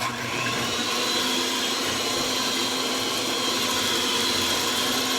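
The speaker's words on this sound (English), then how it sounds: "Now I'm going to stir this in." An electric mixer stirs banana cake batter made with banana, sugar, butter and egg, giving a steady, loud motor whir that holds constant from start to finish.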